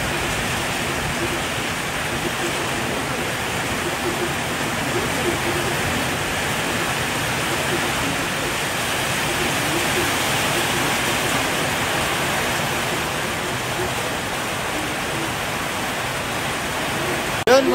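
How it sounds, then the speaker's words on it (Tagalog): Heavy rain pours steadily in Chaong during a bout of bad weather, a dense, even hiss with no letup, like a close downpour drumming on surfaces. "lakas ng ulan dito mga boss sa Chaong"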